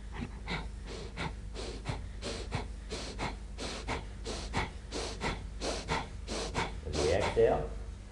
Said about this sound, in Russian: Дыхание животом.